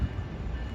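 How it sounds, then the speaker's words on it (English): An Amtrak Capitol Corridor passenger train led by an SC44 Siemens Charger locomotive approaches Emeryville station, a steady low rumble of rolling rail cars close by without horn or speech. "here comes Amtrak Capitol Corridor Train 525"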